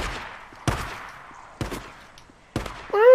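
Four sharp, loud single gunshots from the game Days Gone ring out at roughly one-second intervals, each decaying into quiet, with a brief voice at the end.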